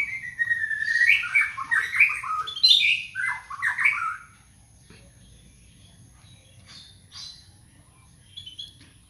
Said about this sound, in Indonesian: burung mau berkicau.